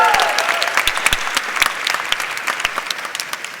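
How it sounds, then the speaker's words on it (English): Audience applause at a technology awards show, a dense crowd clapping with sharp individual claps standing out, loud and close, fading slightly toward the end with some voices mixed in. "Round of applause."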